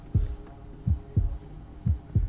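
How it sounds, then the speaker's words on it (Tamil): Heartbeat effect from a horror video game set in a scary mansion: deep, thudding double beats repeating steadily and close, about four pulses over a couple of seconds, with no voices. "பார்த்தீங்கன்னா ஹார்ட் பீட் சவுண்ட் அப்படியே இன்க்ரீஸ் ஆகுதும்"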